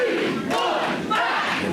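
Boxing match crowd roaring and cheering continuously, a dense loud wash of many voices swelling in two brief surges.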